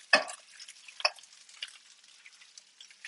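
Duck pieces frying in butter and duck fat in a pan give a soft, steady sizzle, with brief louder crackles as the meat is stirred and shifted.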